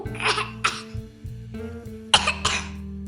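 A child coughs four times in two close pairs of short, harsh, nearby bursts, with quiet pauses between them.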